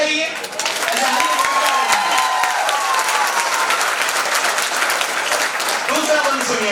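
A crowd applauds at a Phagotsav 2021 honours ceremony, loud sustained clapping that fills the whole stretch, with voices mixed in among the hands.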